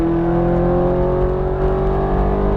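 Ferrari F430 Scuderia accelerating on the Las Vegas Motor Speedway, its engine holding a loud, steady high-pitched drone from inside the car, with no break in the sound.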